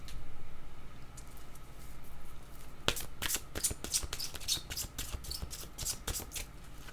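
A deck of oracle cards is shuffled by hand in a quick run of soft riffling and slapping taps, close and fairly quiet, starting about halfway through after low room hum, with no talking.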